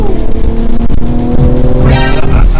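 BMW M340i pulling away hard, a loud, close engine roar rising in pitch as it accelerates through the revs, with no speech over it.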